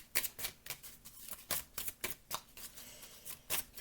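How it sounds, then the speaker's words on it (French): Tarot cards handled and drawn for a full moon reading: a run of crisp, papery flicks and snaps in an irregular rhythm, close and fairly quiet. "Et la dernière carte pour ce tirage de pleine lune"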